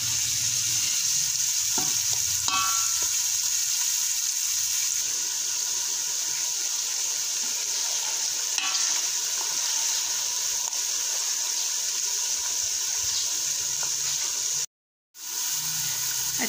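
Bitter gourd (karela) frying in oil gives a steady, loud, close sizzle and hiss that runs almost unbroken, with a brief cutout near the end.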